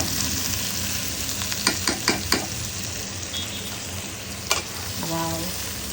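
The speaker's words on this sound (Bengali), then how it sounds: "ভাজা ভাজা করো মশলাটা" Spices frying with chicken in a hot pan give a steady close sizzle, broken by a quick run of scraping stir strokes in the middle, with a brief tonal clink near the end.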